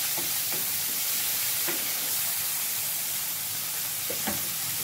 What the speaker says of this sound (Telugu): మళ్ళొకసారి మిక్స్ చేస్తున్నాము.